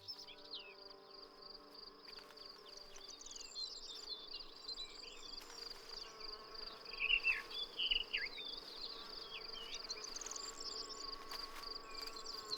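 Insects buzz and hum around spring flowers outdoors, with a steady high cricket-like trill throughout. Bee and fly wingbeats drone past close by, swelling briefly in the middle before settling back to a soft, continuous chorus.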